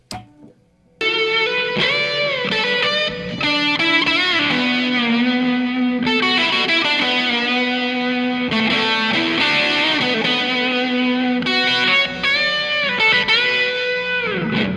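An electric guitar solo recreates a famous guitar solo tone, drenched in plate reverb with effects. Sustained distorted notes bend and ring out loud and alone after a brief quiet opening.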